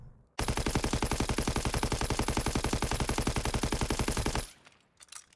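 Sustained automatic fire from an STG rifle fitted with a grip and extended magazine in Call of Duty WW2, a rapid, even stream of loud shots lasting about four seconds and then cutting off abruptly, with no talking.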